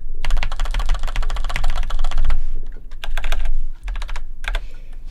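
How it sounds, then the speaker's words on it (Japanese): Rapid, close typing on a computer keyboard into a Notepad window, dense bursts of crisp key clacks with short pauses between, recorded intimately with no talking. "だから今ね、メモ帳にバーって打ってるんですけど"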